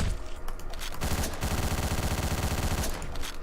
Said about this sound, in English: Really, he waited that long to shoot at me.